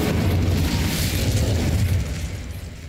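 An incendiary fire spell in Hogwarts Legacy erupts in a loud, rushing burst of flame and crackle that swells briefly and then slowly fades.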